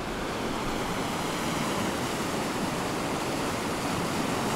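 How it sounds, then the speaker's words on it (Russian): A narrow river rushing through a canyon gives a steady, dense roar of water, loud and unbroken, with no voices. "Река все больше превращается в такой узкий поток в каньоне."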